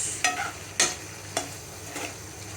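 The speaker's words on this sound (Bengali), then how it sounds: "চিংড়ি মাছের মশলাটা কষানো হয়ে গেছে, এখন চিংড়ি মাছগুলো দিয়ে একটু রান্নাটা করে নেব" Prawns are cooked and stirred through fried masala, with four separate scraping stirs at steady intervals over a soft, steady sizzle. No voices.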